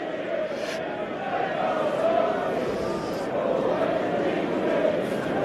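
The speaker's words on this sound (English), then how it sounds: "A familiar refrain breaks out over Trent Bridge." A cricket crowd at Trent Bridge during an England v Australia one-day international, singing a familiar refrain together, a broad sustained chant swelling and fading from the stands.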